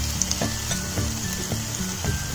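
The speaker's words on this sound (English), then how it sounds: "And saute it for a few minutes." Ginger garlic paste sautes in a pan for Indian-style veg pasta, a steady close sizzle with rhythmic stirring strokes scraping the pan about twice a second.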